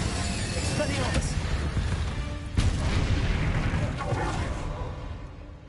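Spell effects from the Hogwarts Legacy video game, including Incendio and Expelliarmus casts, heard as a dense run of whooshing blasts and booms with a sharp impact in the middle, rumbling steadily under the game's soundscape.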